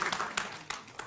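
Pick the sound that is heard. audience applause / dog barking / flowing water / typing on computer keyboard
audience applause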